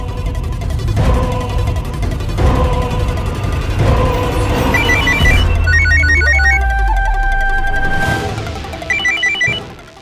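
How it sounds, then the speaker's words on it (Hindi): A phone rings on an outgoing call in a Hindi crime drama, with repeated bright trilling rings in short bursts over dramatic background music and no talking. "मैं जगदीश को फोन करता हूं"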